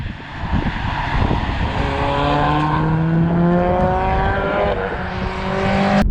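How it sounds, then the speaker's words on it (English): A Subaru Legacy Turbo accelerates hard in third gear, its engine note rising steadily in loud, close turbocharged pitch with harmonic whine climbing throughout. "Third gear acceleration just pulls like an animal"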